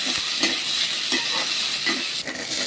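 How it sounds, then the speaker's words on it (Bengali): Chopped onions frying in a pan for an egg and cauliflower curry, a steady broadband sizzle with soft stirring scrapes recurring every half second or so, close and continuous throughout. "পরিমাণ মতো পেঁয়াজ কুচি দিয়ে দিলেন এগুলো একটু বাইজে নিতে হবে"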